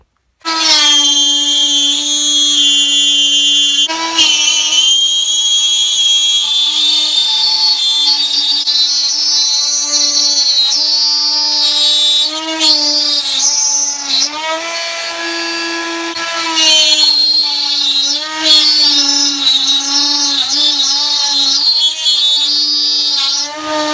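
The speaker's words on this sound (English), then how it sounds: "so the hope is I can use a scroll saw or the Dremel to cut that out" A Dremel rotary tool cutting into live edge wood, loud and close, a high steady whine that dips and rises in pitch as the bit bites and eases off, running almost without pause.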